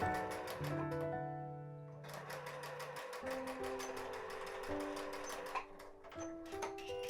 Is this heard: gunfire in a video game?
no